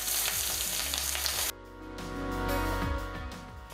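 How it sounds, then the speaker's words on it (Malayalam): Coconut pieces fry in a pan for a Kerala-style chicken curry, a bright steady sizzle that suddenly drops as crushed pepper and ginger are added, then builds again with stirring scrapes, close and without voices. "ഇതിലേക്ക് നമുക്ക് കുരുമുളകും ഇഞ്ചി എല്ലാം കൂടെ ചതച്ച് വെച്ചത് ഇട്ട് കൊടുക്കാം"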